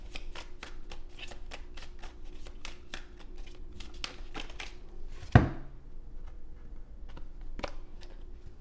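Tarot cards are shuffled in a quick, fairly quiet run of crisp riffling flicks, broken near the middle by one sharper slap as a card is set down, then a few more scattered flicks.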